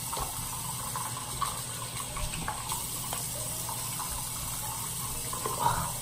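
Water from a tap runs steadily into a sink as a face is wetted, a continuous close splashing stream with small splashes on top and no talking.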